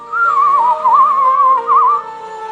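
Melodic whistling carries a wavering tune over soft orchestral music from the Finding Nemo opening score, sustained and fairly close for about two seconds before fading out.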